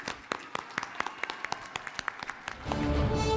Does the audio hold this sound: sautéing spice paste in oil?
no